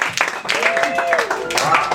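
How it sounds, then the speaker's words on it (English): A poetry open mic audience at a KGB bar claps and cheers briefly, with voices whooping over the applause. "Can we have a big round of applause, ladies and gentlemen"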